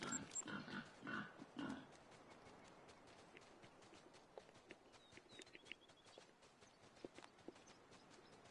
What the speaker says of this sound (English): I got piggies right here.